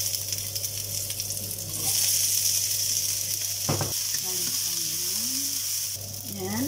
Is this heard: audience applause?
no